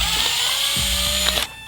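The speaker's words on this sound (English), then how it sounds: "So I'm going to drill my hole basically right there." A power drill whirs steadily up close as it drills a hole through a plastic Fisher-Price toy smoothie maker, a continuous high motor whine with slight pitch wobbles, cutting off near the end.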